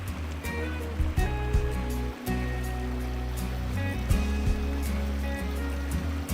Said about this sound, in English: the locals do their washing the old way, by the stream